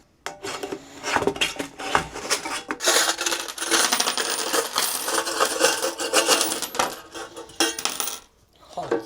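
Coins rattle and scrape inside a container pulled from radio station junk, a busy continuous metallic jangling and shaking that is loud and close, stopping briefly near the end.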